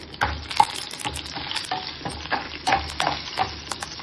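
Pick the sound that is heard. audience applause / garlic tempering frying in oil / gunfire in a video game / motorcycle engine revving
garlic tempering frying in oil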